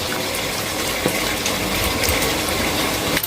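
Soaked tamarind juice pours into a fish curry mixture (chepala pulusu) in a steady, continuous splashing gush that stays loud and close for about three seconds.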